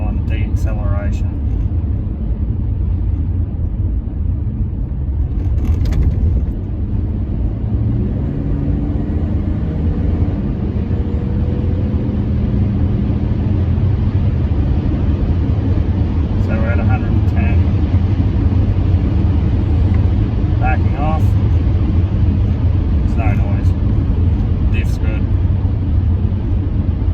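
A Ford AU Falcon fitted with a new limited-slip differential is driven up to around 110, its steady, loud low road-and-engine rumble heard continuously from inside the cabin.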